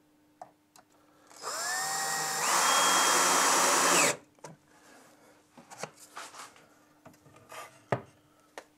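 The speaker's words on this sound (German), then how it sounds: "jetzt oben noch eine Schraube zum Fixieren" A screw is driven into a wooden cabinet door with a power screwdriver in one close, loud whirring burst that climbs in pitch for about three seconds, followed by soft handling rustles and taps.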